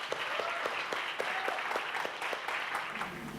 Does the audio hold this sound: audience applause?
yes